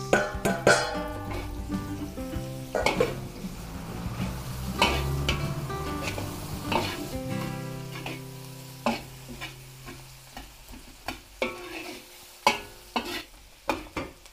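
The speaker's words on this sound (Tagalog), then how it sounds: "Pagka medyo luto na yung bawang, mabango na, lagay natin yung sibuyas." Garlic and onion sauté in a hot pan, a constant sizzle broken by repeated scraping stirs and clanks of the utensil against the pan, close and clear with no talking.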